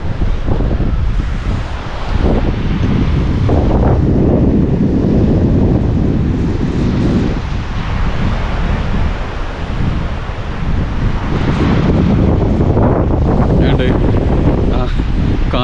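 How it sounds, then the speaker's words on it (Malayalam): Strong wind buffeting the microphone over rushing water in Aru Valley, Kashmir, loud and continuous, with occasional voices underneath. "ആ വെള്ളത്തിൻ്റെ സൗണ്ടും കാറ്റും"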